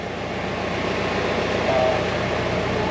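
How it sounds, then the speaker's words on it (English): A tram pulls in at a station, a steady low rumble with a faint whine that holds evenly for a few seconds with no speech over it. "here's the tram"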